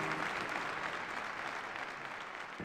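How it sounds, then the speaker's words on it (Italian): Audience applause for the sixth-place contestant at a regional singing competition final, a steady wash of many hands clapping from a crowd, even and sustained throughout. "Ancora un applauso per Lavinia Abate,"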